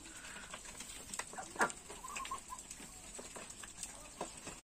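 A flock of desi and Chinese ducks eats feed of paddy and broken maize, with faint scattered quacks and soft calls over a quiet background.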